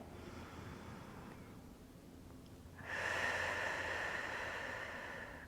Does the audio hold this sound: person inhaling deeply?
yes